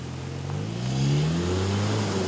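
2024 Hyundai Venue engine revving hard in sport mode, a mid-pitched drone climbing steadily in pitch and loudness as the car accelerates, heard from inside the cabin with no talk.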